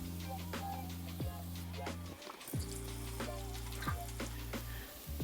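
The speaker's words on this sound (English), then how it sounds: "I'm going to wash my hands" A kitchen tap runs water steadily close by while someone washes their hands after handling raw pork, with a continuous splashing stream under a few soft knocks.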